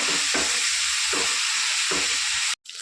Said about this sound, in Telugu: ఉప్పు వేసి ఫ్రై చేసుకున్నాను లైట్గా